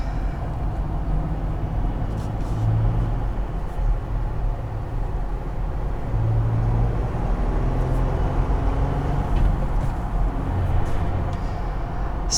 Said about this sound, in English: Personally, I really like the sound of it. It's a typical V6 sound.